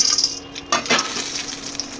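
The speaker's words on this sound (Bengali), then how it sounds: "ওই তেলে আর একটু তেল দিয়ে দিচ্ছি, দিয়ে বড়ি কপি ভেজে নেবো" Lentil bori and cauliflower fry in oil, a close sizzling hiss that bursts louder briefly, then settles into steady crackling.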